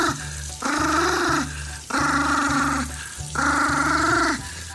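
A dog growls in three long, loud, close rumbling bursts separated by short pauses, with a steady low hum underneath and no talking.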